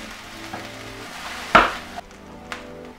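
Onions, garlic and finely chopped ginger fry in a pan for Szechuan-style beef, a steady soft sizzle with a few sharper stirring clatters and one louder spatter near the middle.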